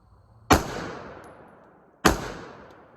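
Two loud, sharp rifle shots from an unsuppressed 16-inch LMT rifle fitted with a Hanson Brothers muzzle brake, each firing about a second and a half apart and leaving a long decaying echo.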